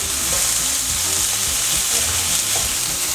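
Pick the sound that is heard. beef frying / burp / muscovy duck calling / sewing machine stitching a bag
beef frying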